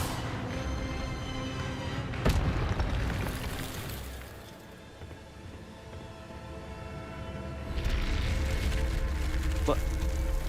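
Spell effects for Incendio and Expelliarmus being cast in the video game Hogwarts Legacy: a loud, dense magical rumble and whoosh with a sharp burst near the start and another swell late, layered under game music and a speaking voice.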